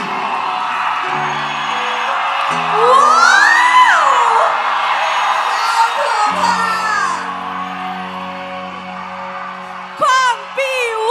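A concert audience screams and cheers loudly as a singer shifts between vocal registers, with sustained crowd shrieks swelling and falling around the sung phrases, then a sharp burst of shouting near the end.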